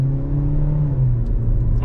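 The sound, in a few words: 2025 Kia K4 GT Line car accelerating hard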